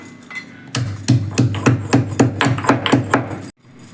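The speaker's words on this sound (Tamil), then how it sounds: "பூண்டை நம்ம தட்டி போட்டுக்கலாம்" Rapid pounding, about a dozen sharp thuds in quick succession as unpeeled garlic cloves are crushed for lemon rasam, close and loud, then a sudden stop.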